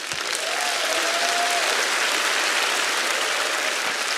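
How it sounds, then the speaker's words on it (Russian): A theatre audience at a comedy-league show bursts into steady, dense applause that fills the hall. It holds loud and even throughout, with a faint whistle-like tone drifting over the clapping. "Ваши аплодисменты."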